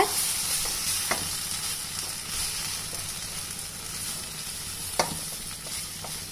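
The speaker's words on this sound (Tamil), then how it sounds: "ஸ்லோவில் வச்சு கொஞ்சம் நல்லா நீங்கள் மிக்ஸ் பண்ணி விட்டுக்கோங்க" Roasted rava and ragi flour are stirred in a pan on low heat, a soft sizzle with occasional scraping clicks from the spoon.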